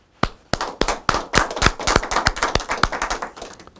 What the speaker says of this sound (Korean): 우리 모두 참 어머님께 감사의 박수를 보내주시기 바랍니다